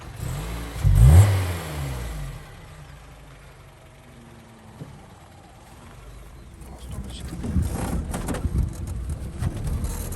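An SV-418 6x6 quad bike engine revs loudly up close, then settles to a lower idle before building up again, with people talking around it.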